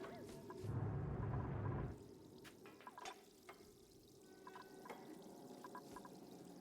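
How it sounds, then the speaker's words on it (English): Water in the Oxygen Not Included game: a brief pouring rush at the start, then scattered drips and small splashes over a low hum, fairly faint and with no talk. "Why do I hear water noises?"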